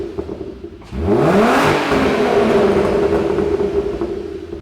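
A Volkswagen Golf R32 engine revs hard, its pitch sweeping sharply upward after a quiet start, then holding a loud, sustained roar close by before easing slightly at the end.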